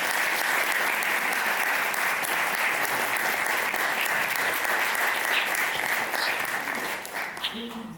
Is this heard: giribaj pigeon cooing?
no